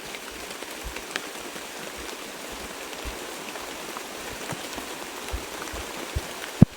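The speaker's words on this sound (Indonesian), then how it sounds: "Hujannya gede banget." Heavy rain falls in a steady, dense hiss with scattered louder drops and patters on nearby surfaces, continuous and fairly close, with no voices.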